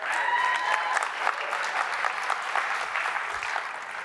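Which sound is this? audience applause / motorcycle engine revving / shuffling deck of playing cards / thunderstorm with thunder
audience applause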